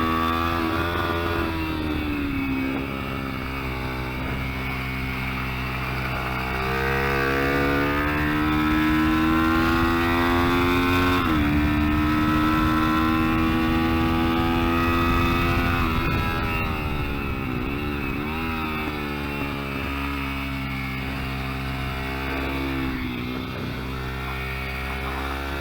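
A Kayo MR125 mini-GP motorcycle lapping a track, its small engine droning loudly and continuously while the pitch climbs and drops through gear changes and throttle shifts, heard up close from the bike itself.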